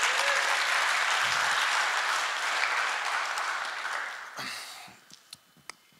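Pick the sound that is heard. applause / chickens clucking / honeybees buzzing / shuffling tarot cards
applause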